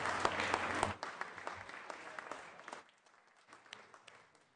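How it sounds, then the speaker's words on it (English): A modest crowd applauds in a state senate chamber during a floor session, with steady clapping that fades out after about three seconds and leaves a few scattered claps and faint room noise. "Let's give them a round of applause in the back of the chambers."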